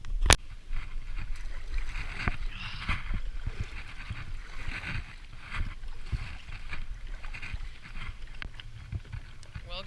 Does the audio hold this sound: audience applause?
no